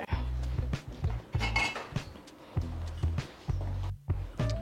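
A metal spoon scrapes and knocks against a pot of cheesy grits in a series of close, sharp clanks and scrapes, several strokes with short pauses between them.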